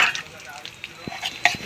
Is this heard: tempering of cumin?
yes